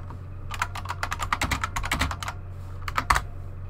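Rapid typing on a computer keyboard during a webcam live stream, a quick burst of crisp close key clicks, a brief pause, then a few more keystrokes, with no voices.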